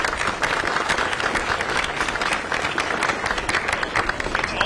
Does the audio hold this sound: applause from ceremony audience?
yes